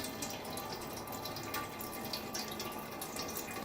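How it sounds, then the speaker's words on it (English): Water streaming down through a bucket gravity water filter into the lower container, a steady, even hiss of running liquid at moderate level with no voices. "See how fast that's pouring in?"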